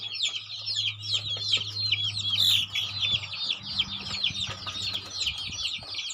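Many native Thai chickens cluck and chatter together in a busy, continuous chorus in a village coop, close by, with a low steady hum underneath.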